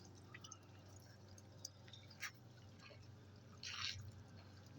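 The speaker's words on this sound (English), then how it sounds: "these sprinklers here represent the eave sprinklers or the rain gutter sprinklers" Eave sprinklers on a house mockup drip plain water in faint, scattered drops and soft splashes over a low steady background hum, with a brief louder spatter near the end.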